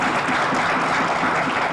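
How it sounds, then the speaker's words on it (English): Audience applause following an announcement at a year-in-review event, a dense, steady wash of many hands clapping, loud and continuous throughout with no voices standing out. "Let's give him a round of applause."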